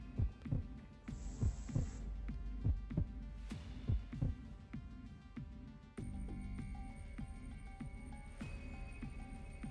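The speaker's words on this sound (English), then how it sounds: "The heartbeat is helpful." Heartbeat effect from the video game The Hundred Line: Last Defense Academy, a steady run of deep, muffled thumps over a low ambient hum, with tonal chimes and a brief shift in the background drone partway through.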